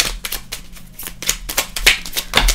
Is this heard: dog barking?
no